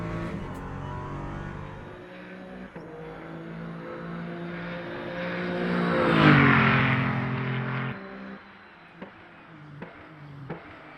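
Race car engine in the sim racing game Le Mans Ultimate, a steady loud drone that swells around mid-clip as the car accelerates out of a corner, then drops sharply, followed by a few brief clicks.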